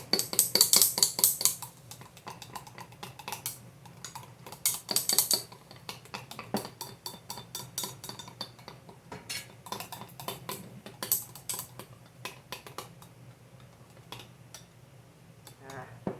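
Sourdough starter is stirred in a bowl with a utensil, producing quick irregular clinks and scrapes against the bowl, fairly quiet and close, with louder clattering bursts now and then.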